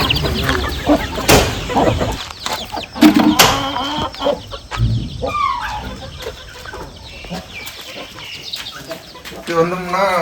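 Native chickens on a farm cluck and squawk steadily, pecking at raw uncooked rice, with scattered sharp calls near and far and someone talking over them.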